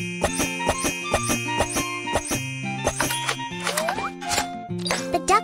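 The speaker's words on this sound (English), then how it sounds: "Let's cut open the can." Cartoonish sound effects from a kids' pet care game as a can is cut open to free a duck: a rapid series of bright plinks, dings and short tonal blips with a rising swoop, over a light background melody.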